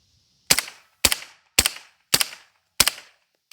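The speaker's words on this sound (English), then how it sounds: "Then finally, UMP45, 230 grain, 45 ACP." A suppressed UMP45 fires 230 grain .45 ACP rounds: five sharp, evenly spaced single shots about half a second apart, each a crisp crack with a short decaying tail, close and alone.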